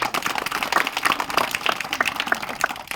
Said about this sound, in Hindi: ताली बजाइए पहले शक्ति